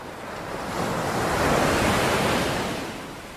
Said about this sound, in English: That's the sound of the sea